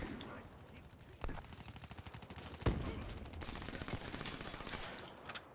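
VMP submachine gun fired in Black Ops 3, rapid automatic bursts crackling fast and repeated with sharper shots mixed in, fairly faint under someone talking over the gameplay.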